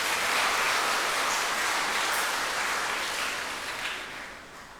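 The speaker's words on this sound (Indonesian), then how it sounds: "Tepuk tangan untuk mereka." A church congregation applauding during Christmas Day Mass, a dense, even wash of many hands that holds steady and then begins to fade toward the end.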